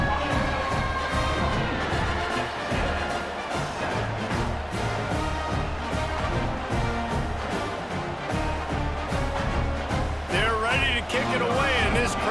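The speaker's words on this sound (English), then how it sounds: "this crowd is buzzing after that last score" A football stadium crowd roars and cheers after a Texas A&M Aggies score, a continuous loud wash of voices and shouts under a broadcaster's commentary.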